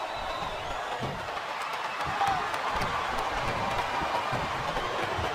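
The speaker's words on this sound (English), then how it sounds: "This capacity crowd is making their opinions known tonight" Arena crowd noise in WWE SmackDown vs Raw 2007, a steady roar of a capacity audience filling the background, loud and continuous with no clear breaks.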